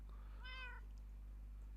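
A Minecraft cat gives a single short meow, rising then falling, faint against a steady low electrical hum, with silence around it.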